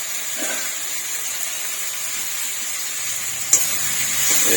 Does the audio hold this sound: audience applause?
no